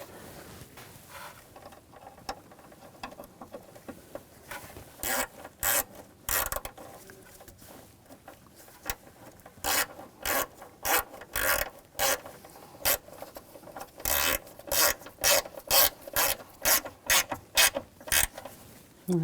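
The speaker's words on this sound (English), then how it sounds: "Take the bolt, get that started." A bolt is started by hand and tightened on the auxiliary water pump of a 2000-2006 BMW X5 3.0L inline-six, heard as dense bursts of ratcheting clicks and metallic rasping that grow more frequent toward the end, close and clear with no speech.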